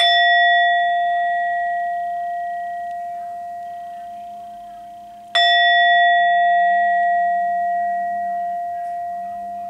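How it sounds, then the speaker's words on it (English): A small singing bowl is struck twice, about five seconds apart, each strike ringing out in a clear, pure, sustained tone that slowly fades, close and alone with no voices. "I'm being guided to just click my little singing bowl real quick."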